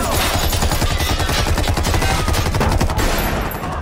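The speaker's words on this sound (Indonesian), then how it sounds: "para bandit melepaskan tembakan" Bandits open fire with guns at a bank during an armed robbery standoff, loud dense rapid bursts of gunfire crackling continuously, like machine-gun volleys, with no pause throughout.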